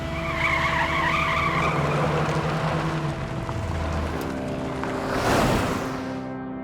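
A jeep pulls away with a broad engine roar and tyre skid noise, ending in a louder rushing surge near the end, with no voices over it.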